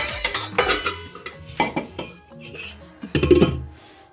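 Pots, pans and utensils clatter in a home kitchen while tea is being made, with sharp metallic clanks and clinks coming in quick bursts and short pauses between them, close and fairly loud, with no speech.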